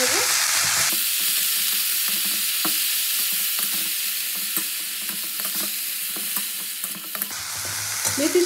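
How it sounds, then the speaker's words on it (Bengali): Fenugreek leaves fry in hot oil while being stirred, giving a continuous loud sizzle with scraping and rattling stirring strokes, close up and without talk. "এই শাকটা দিয়ে এবার ফোড়নের সময় খুব ভালো করে নেড়ে চেড়ে নেব।"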